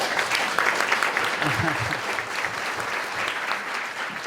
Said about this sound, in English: A round of applause for Dave.